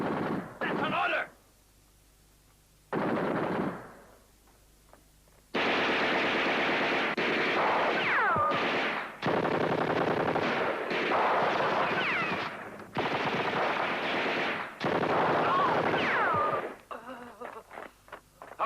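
Battle gunfire in a 1969 El Alamein war film: sustained machine-gun bursts and heavy artillery-like blasts in long loud stretches, separated by brief quieter gaps, with shouted voices mixed in.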